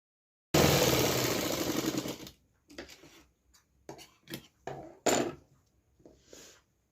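Sewing machine stitching along a suit neckline edge, a continuous whirring run of close, loud stitching for about two seconds, then a series of short, separated bursts of stitching and fabric handling.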